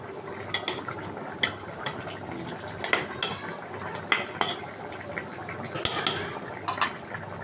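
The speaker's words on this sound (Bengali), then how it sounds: "আমি হালকা করে আর একটা নাড়া দিয়ে দেব।" A spoon stirs bottle gourd and silver carp curry in a metal pot, making sharp, irregular clinks and scrapes over a soft background bubble, with no voices.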